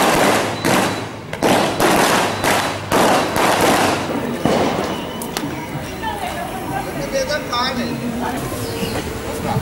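Firecrackers go off during Pongal celebrations in Sri Lankan Tamil areas: a rapid string of sharp bangs and thuds for about four seconds, then thinner crackles and scattered pops with voices in the background.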